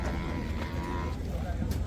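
A buffalo lowing at a busy buffalo market in Erragadda, Hyderabad, a low drawn-out moo set against a dense rumble of crowd noise and background voices.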